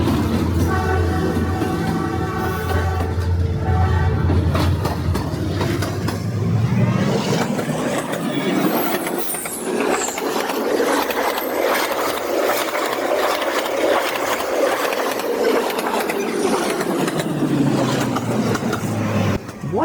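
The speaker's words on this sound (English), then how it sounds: "the third train came tearing through, blasting past us in a rush of wind and noise" A train roars past close by on a Hanoi street, a loud rumbling rush of wheels and wind that swells and fades, with a horn sounding near the start.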